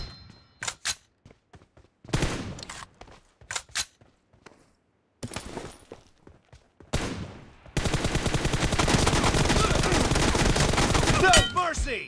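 Gunfire in a shooting video game comes first in short bursts separated by gaps and then as a sustained loud stream of automatic fire, close and dominant, with brief voices mixed in.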